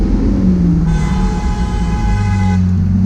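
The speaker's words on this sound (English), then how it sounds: "It's this Ram. He's like honking at us." Ram pickup truck horn honking in traffic, a loud, steady, continuous blare held for about two seconds over road rumble, close by.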